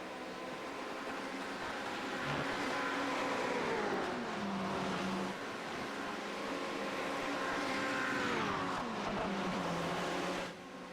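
LMP1 prototype race cars pass on the Le Mans circuit at night, their loud engine notes sweeping down in pitch as each car goes by, with overlapping engine roar that continues across the whole stretch and no talk.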